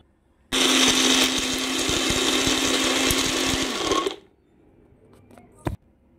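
A blender whirs loudly, grinding poppy seeds, melon seeds, cashews and black pepper with milk in one steady burst of about three and a half seconds, then winds down and stops, leaving faint kitchen clatter.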